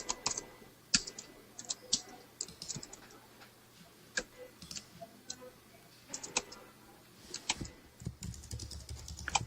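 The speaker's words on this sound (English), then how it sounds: "I'll just type it out to you." Typing on a computer keyboard: irregular bursts of close, crisp key clicks with short pauses between runs, no one talking over them.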